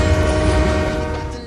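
A loud, sustained train horn blares from a passing train, a single steady chord-like blast that slowly fades over about a second and a half, with no voices.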